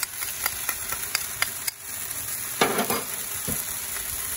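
Garlic sizzling in a wok with chicken fajitas on a Big Green Egg grill, a steady loud frying hiss broken by regular sharp metallic taps and scrapes of a utensil against the wok.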